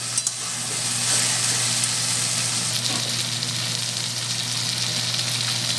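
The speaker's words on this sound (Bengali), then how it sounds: "আরও 3 মিনিট আমি কষে নেব।" Onion, ginger, garlic and green chilli sautéing in a pan for mutton curry give a steady, close sizzle and frying hiss, with a low hum beneath, continuous and without speech.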